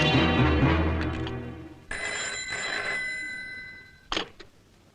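A telephone bell rings in steady trilling bursts after a brief rumble of other sound, fading toward the end with a short clatter.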